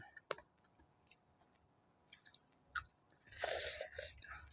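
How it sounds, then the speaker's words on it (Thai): Crisp, irregular crunching bites of squid from close up, with a few sharp clicks and a louder burst of chewing toward the end. "กรุบกรุบมากเลยค่ะพี่น้อง"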